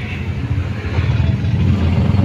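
Trucks and other vehicles move alongside in city traffic in Quezon City, a continuous low engine rumble with road noise close by and no talking.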